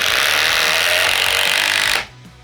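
A Japanese-made impact driver sinks a 3 1/8 inch GRK screw, giving a loud, steady rapid hammering that lasts about two seconds and then cuts off abruptly, leaving a quiet tail.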